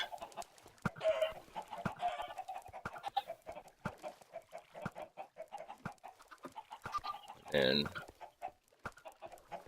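Minecraft chickens cluck in a busy, near chorus of short clucks and squawks, with one louder squawk near the end, mixed with a brief spoken word.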